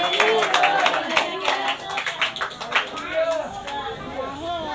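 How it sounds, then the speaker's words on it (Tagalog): Scattered clapping from a church congregation at an apostolic service, mixed with voices talking and calling out, the claps loosest early and fading under the speech. "Isa ka pa palakpak"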